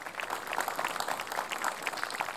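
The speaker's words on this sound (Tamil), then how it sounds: "குழந்தைக்கு ஒரு கைத்தட்டல் கொடுங்களேன்." A studio audience on a Tamil children's fun TV show claps for a child, a steady, dense patter of applause filling the whole moment without any talking.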